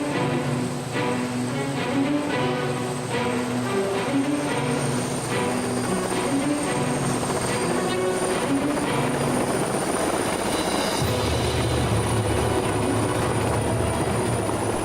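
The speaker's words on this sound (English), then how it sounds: "Ben Bacal, a helicopter tour of what San Diego has to offer in the luxury real estate market from the sky" A helicopter flying over San Diego on a luxury real estate tour, its rotor chop and engine drone steady and loud throughout, growing heavier and deeper in the final seconds, with no talking.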